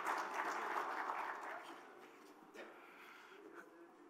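An audience at the opening session of the 2021 Beykoz Symposium applauds to welcome a speaker to the stage, with fairly loud clapping that fades to scattered claps.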